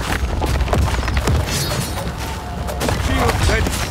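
Massed musket-style gunfire from soldiers in the Game of Empires strategy game, a dense crackling volley with booming hits rolling on throughout, mixed with game voices.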